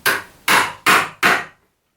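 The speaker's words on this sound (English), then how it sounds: "Use my hammer based on a Roman example" A hammer strikes a Roman-style wooden bench holdfast four times in quick succession, each blow a sharp, loud woody knock with a short ring, close and alone.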